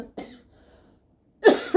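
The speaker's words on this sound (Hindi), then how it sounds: "अब भी देखो आपके सामने इतनी खांसी उठ रही" A woman coughs at close range, a single short cough followed after a pause by a pair of harsh coughs in quick succession.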